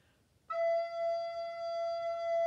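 A recorder sounds a single sustained low E, fingered with the thumb covering the back hole and blown softly, a clear steady tone that starts after a brief quiet moment and holds alone.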